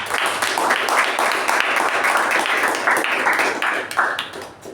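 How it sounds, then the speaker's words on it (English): Audience applause at a Toastmasters meeting for the two speech evaluators: steady, dense clapping from a roomful of people, fairly close and loud, holding for several seconds before tapering off at the end. "Let's give a round of applause to both the evaluators."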